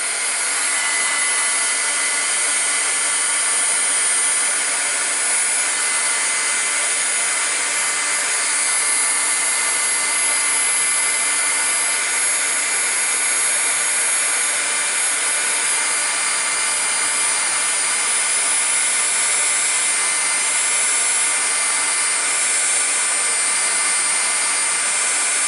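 A heat tool blows hot air to melt embossing powder on a wedding card, a steady, loud, unbroken fan-like whoosh lasting the whole time, close by and without talking.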